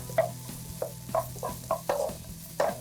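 Onions sauté in a pan for dragon chicken under a low continuous sizzle, broken by a series of regular stirring scrapes and clinks roughly every third of a second.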